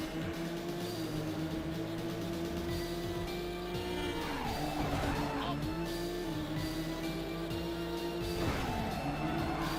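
A car in the racing game Midnight Club 2 in Tokyo brakes and skids, engine tones dropping with rough tire scrubbing bursts over a steady droning engine, loud and continuous.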